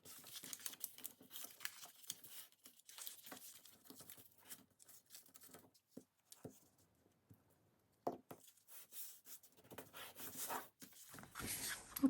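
Paper flaps folded over and glued down for a handmade planner: quiet, intermittent crinkling, rustling and soft taps close by, with brief pauses between handling sounds.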